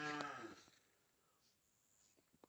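An ox lowing once in a farm orchard, a single loud harmonic moo at the start that fades within a second, followed by quiet rural background with a few faint knocks.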